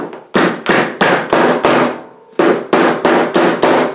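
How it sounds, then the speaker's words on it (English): A hammer, struck through a piece of wood, taps a bicycle hub cap into place: about ten sharp, loud knocks in a steady rhythm with one brief pause midway, each hit ringing briefly, close up. "I always try to tap it in with a piece of the back of the hammer like a wood."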